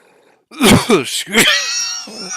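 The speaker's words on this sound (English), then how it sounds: "Excuse me, sneezing." A person sneezes close to the microphone, a sudden loud burst with two sharp explosive bursts and a strained, groaning tail, sounding alone before quiet returns.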